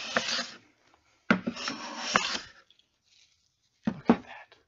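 A hand plane shaves fine curls from wood in three soft, close rasping strokes separated by short pauses, quiet and with no voices.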